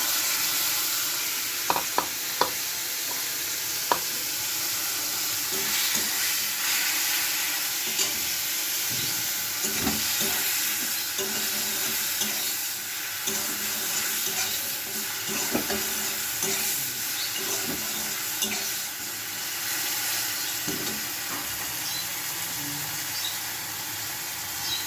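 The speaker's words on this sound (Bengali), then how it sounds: "এবার আমি পুঁই শাকটা দেবো।" Malabar spinach fries in a pan, producing a continuous, even sizzle with scattered clinks and scrapes from stirring over a long stretch.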